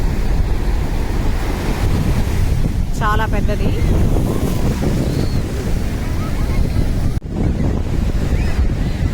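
Ocean surf and gusting wind at Nagore beach under cloudy skies, a steady loud roar with wind buffeting the microphone throughout, and a person speaking briefly partway through.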